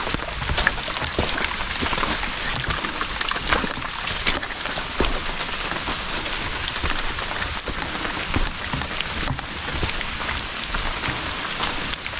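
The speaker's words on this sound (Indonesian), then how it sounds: "Lumayan kalau kita dalam keadaan muncak dikasih hujan seperti ini" Heavy rain pouring on a hike up Mount Tampomas in Sumedang, a loud, dense, continuous patter of drops striking surfaces close around, steady for the whole stretch with no talk.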